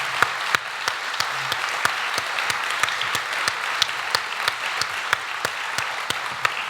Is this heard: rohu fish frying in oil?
no